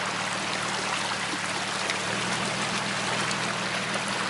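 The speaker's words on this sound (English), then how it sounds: "Really pretty river though." A river flows near Earls Ford in winter, a close, steady rushing hiss of water that stays even and unbroken throughout.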